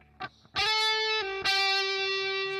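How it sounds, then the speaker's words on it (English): A distorted electric guitar with no effects, only distortion, plays a short picked note from a solo intro, then sustains two loud, buzzing chords with rich overtones, close and alone. "there's no effects. This is just distortion."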